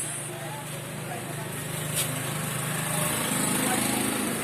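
A Suzuki B120 classic motorcycle engine runs steadily at a fast idle nearby, a buzzy drone that builds slightly near the end while people talk.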